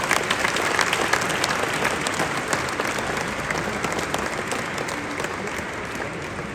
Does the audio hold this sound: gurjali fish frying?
no